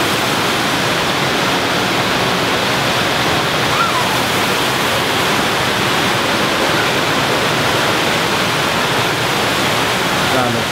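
The waterfall at the Fountain of the Gods outside Caesars Palace in Las Vegas roars as a loud, steady, unbroken wash of rushing water close by, with faint voices buried underneath.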